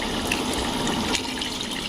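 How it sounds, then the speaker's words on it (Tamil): Water pours steadily and noisily into a pressure cooker to rinse it while mutton biryani is being made, a continuous close splashing rush with no pauses. "குக்கரை அலசி ஊற்றிடலாம்."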